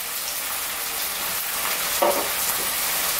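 Onions and tomatoes sizzle steadily in a hot kadai for lamb curry, a continuous close frying hiss with a brief stirring clatter partway through.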